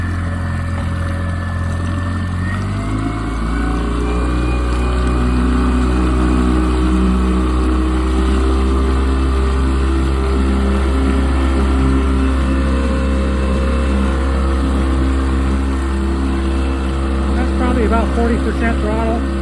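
A Yamaha 9.9 High Thrust four-stroke outboard runs steadily and close, its hum rising as the throttle opens early on and then holding a constant drone, with another voice faintly under it.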